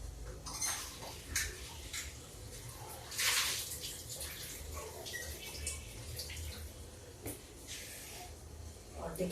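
Carrots are rinsed under a running tap in a home kitchen, with water splashing and trickling and occasional clinks of a dish, under quiet talk.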